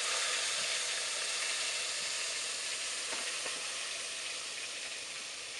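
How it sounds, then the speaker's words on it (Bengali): Brinjals sizzling in hot oil, a steady, dense frying hiss that stays close and even throughout, with faint crackles and no talking. "তেল গরম হয়ে গেছে, এখন বেগুনগুলো দিয়ে দেব"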